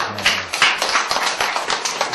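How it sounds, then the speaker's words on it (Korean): Audience at a Rubycell cosmetics business presentation clapping together, a dense run of quick overlapping claps at steady strength, fairly close and without speech. "박수 한번 주십시오."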